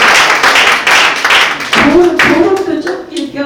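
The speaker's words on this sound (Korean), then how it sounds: "박수 한번 쳐야죠." Audience clapping at a tea society lecture, a burst of many hands at close range that thins out toward the end, with voices talking over the last part.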